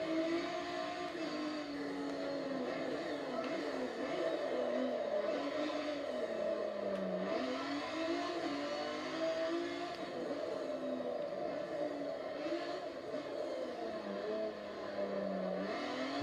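A race car engine in the Forza Motorsport 7 racing game, Honda trophy event, revs steadily and loudly for the whole stretch, its pitch rising and falling with gear changes and throttle, with no voices over it.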